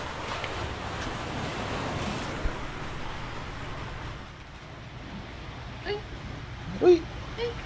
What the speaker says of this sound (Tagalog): Dito kami sa gilid ng dagat.